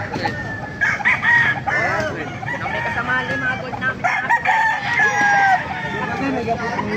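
Sweater gamefowl roosters crowing loudly and close, several overlapping cock-a-doodle-doo calls with clucks in between, steady throughout.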